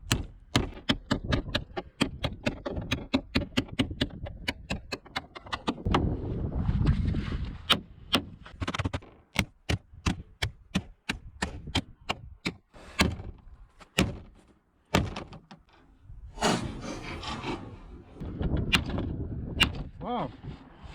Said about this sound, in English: Some light betoning.